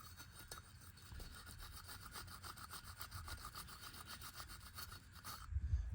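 Rust is scrubbed off an import machining vise with a brush, a quiet, steady run of rapid back-and-forth rasping strokes with a louder clunk near the end.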